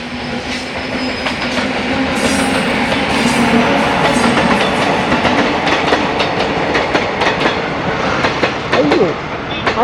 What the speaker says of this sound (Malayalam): ദേ വരുന്നു ഒരു ട്രെയിൻ.